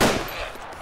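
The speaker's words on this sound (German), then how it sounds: "Warum verschwendest du deine Munition?" A quick burst of gunfire rings out from weapons in the video game DayZ, a single loud sharp report with a fading tail, lasting under a second.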